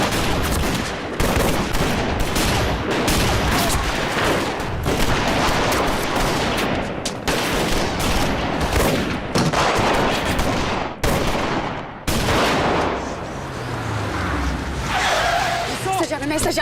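Gunfire in a police shootout in a French crime film set around Action Directe, with dense bursts of shots, skidding car sounds and loud action noise running continuously, and voices mixed in throughout.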